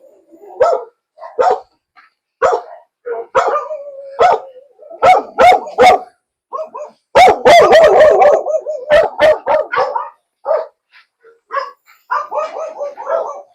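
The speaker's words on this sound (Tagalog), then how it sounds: "ang daming aso" Several dogs barking loudly and close, in short bursts and overlapping flurries, with a few yips mixed in.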